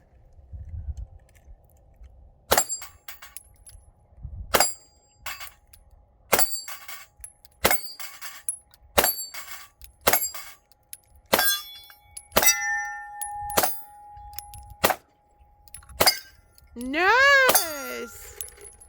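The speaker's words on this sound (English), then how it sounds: "we've been shooting steel for a little bit now out here in the desert" Shots from a SAR K12 Sport semi-automatic shotgun striking steel targets outdoors in the desert, heard as a series of sharp metallic clangs spaced about a second apart, followed by a final ringing, wavering tone.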